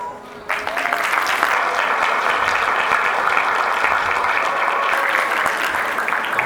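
Graduation audience applauding after the sponsor's speech, a sudden onset of dense, steady clapping from a large crowd that holds evenly for several seconds.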